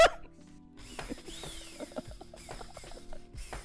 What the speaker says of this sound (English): The drill is always on.